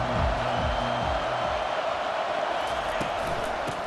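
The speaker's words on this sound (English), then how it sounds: "This crowd bringing an ear-splitting welcome to their visitors." Football stadium crowd at a UCLA vs Florida State game roaring in a steady, loud wash of cheering that fills the whole stretch, with a few brief sharper shouts near the end.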